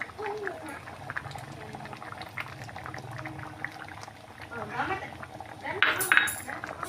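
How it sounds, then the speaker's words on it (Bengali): Mung dal with fish head simmering in a pot, a steady close bubbling and gurgling that swells and grows louder toward the end, with light clinks of a utensil against the pot. "আর 10 মিনিট ভালো করে এটাকে জাল দেব।"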